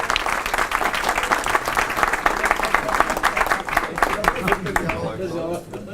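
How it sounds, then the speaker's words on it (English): Men in an audience at a siyum gathering applauding, a busy patter of many hands clapping that builds and then tapers near the end, with voices heard beneath it. "I'd like to take this moment for all of you men to stand up and applaud wives and mothers"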